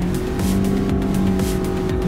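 A Proton Saga with a CVT at full throttle from a race start, its engine a loud, steady, droning roar held at high revs throughout.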